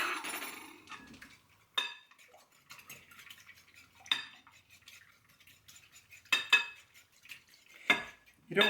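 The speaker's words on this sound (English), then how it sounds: "You don't have to really beat the eggs real well" Eggs beaten in a bowl for lemon popover batter, with a utensil clinking against the bowl in short, uneven bursts of scraping and tapping, close and fairly quiet.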